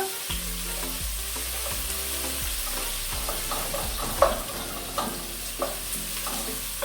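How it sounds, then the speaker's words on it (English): Onions frying in a pan for fried rice, a steady close sizzle with scraping stirs and a few sharper clinks of a utensil against the pan, no voices. "Onions like that, you see they are cooking very well."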